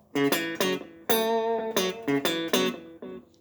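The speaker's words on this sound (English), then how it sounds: "Now you'll notice there's a bit of echo or delay." A short guitar phrase of separate plucked notes with a faint trailing echo after each, played alone at moderate volume.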